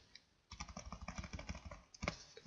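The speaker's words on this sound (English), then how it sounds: "If I type something in, the operating system's controlling" Keys on a computer keyboard clack in a quick, steady run of soft clicks after a short pause, then a brief louder burst near the end, heard close and fairly quiet with no talking.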